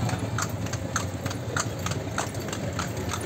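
Horse hooves clip-clop in a steady rhythm as the horse pulls a kalesa carriage through a capital town, with regular hoof strikes over a constant road and traffic rumble.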